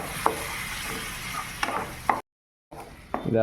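A utensil scrapes and clacks against a pan as chopped chapati is stirred with water over a soft sizzle, pausing briefly before the stirring resumes.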